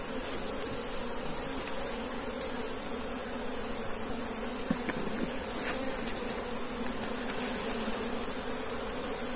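A swarm of Africanized honey bees buzzes continuously around a captured hive, a dense steady drone up close with individual bees zipping past now and then.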